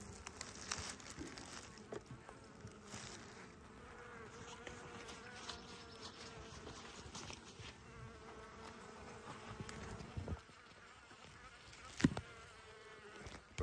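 Honeybees buzzing in an opened hive, a faint continuous hum from many bees close by, with scattered soft clicks and knocks from handling the hive.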